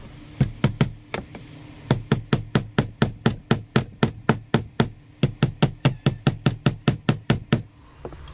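Small nails driven with a hammer to attach a wall hanger to the back of a thin homemade wooden sign: sharp, steady knocks in quick runs of several blows, broken by short pauses, close and clear with no talking.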